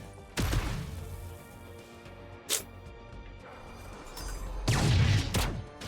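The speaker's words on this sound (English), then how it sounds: "Oh no, nice grenade there" A grenade goes off in the ZeroSpace strategy game as a loud blast near the start, followed by a brief sharp crack and then a heavier rumbling explosion toward the end, amid constant battle noise.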